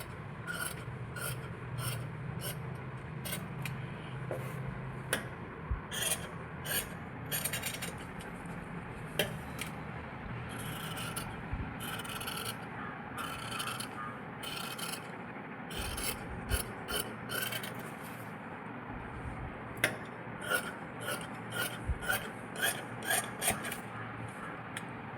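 Scissors snip and rasp through fabric as pattern pieces are cut for stitching, a busy run of close, repeated scraping and clicking cuts over a faint background.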